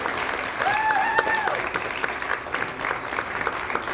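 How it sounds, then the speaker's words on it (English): An audience at an award ceremony for young honorees gives sustained, dense applause that fills the room, with a faint voice briefly audible over the clapping. "another big round of applause for our 18 under 18 inaugural"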